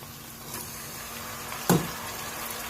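Onions frying in a pan for chickpea cholay, a faint steady sizzle under low room noise, with one brief louder clink or scrape midway.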